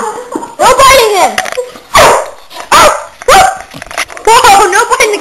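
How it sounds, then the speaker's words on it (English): A dog barks and yips repeatedly at close range while playfully attacking and biting outdoors in the snow, loud sharp barks and whimpers mixed with people shouting over it. "My dog's attacking me."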